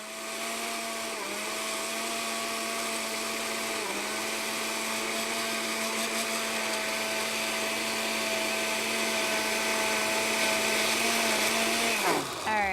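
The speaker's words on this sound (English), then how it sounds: "we're just going to actually mix up in our blender because we can do that" Kitchen blender running continuously on chopped red cabbage, a loud, steady high-pitched whir that holds for several seconds before cutting off abruptly at the end.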